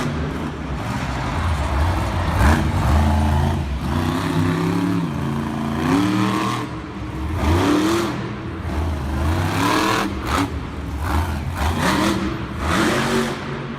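Stone Crusher monster truck engine at a Monster Jam two-wheel competition in Raleigh, revving hard for a sky wheelie: loud, sustained roar with rising and falling pitch sweeps, heard alone over arena noise.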